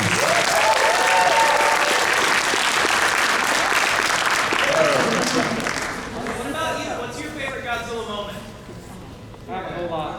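An audience at an anime convention bursts into loud, sustained applause with cheering, then it dies down as voices talk through the remainder.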